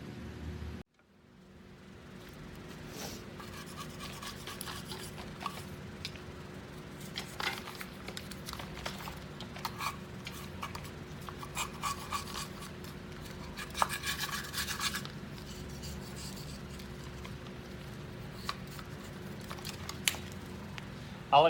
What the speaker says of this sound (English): I like to scrape all the big heavy stuff off of here.